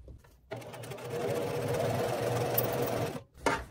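Sewing machine stitching a quilt block made from bandanas, a steady fast whirring run of a few seconds that starts and stops abruptly, close and alone.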